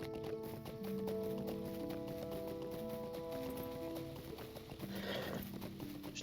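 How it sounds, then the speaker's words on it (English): A stable horse in the Lord of the Rings Online video game gallops with steady clip-clop hoofbeats and a whinny, backed by a layered game music score, the hooves close and continuous throughout. "we'll take the stable horse from Hobbiton"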